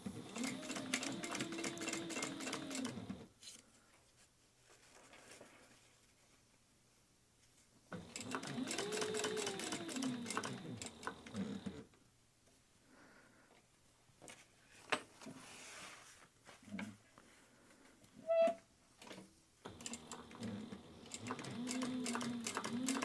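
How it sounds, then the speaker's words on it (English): A sewing machine stitching around the perimeter of a small fabric phone pocket bag, running in several bursts of rapid mechanical whirring separated by pauses with quieter handling sounds, close and clear. "we are just going to sew all the way around the perimeter of the bag at 1/4 inch seam allowance"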